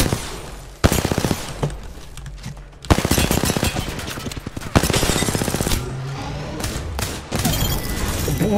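Rapid gunfire in the Apex Legends video game, loud crackling bursts of automatic SMG shots with sharp thuds and pauses between volleys.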